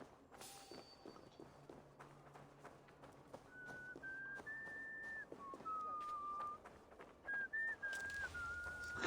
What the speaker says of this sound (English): This guy whistling is like the loudest.